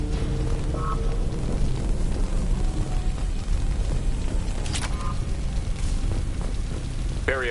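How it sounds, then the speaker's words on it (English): Explosion in the video game Mass Effect Legendary: a loud, sustained broadband blast and rumble with debris crackle throughout, joined by scattered electronic beeps and tones. "Looks like he got caught in the explosion."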